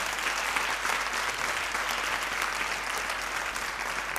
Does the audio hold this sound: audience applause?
yes